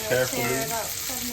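Steelhead trout fillet pan searing, a brief close sizzle and crackle of frying with a voice speaking over it.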